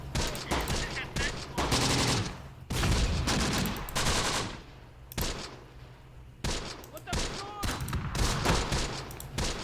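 Rifle team gunfire from the Close Combat game fills the scene with dense, loud bursts of rifle and machine-gun fire, rapid volleys overlapping with brief lulls between.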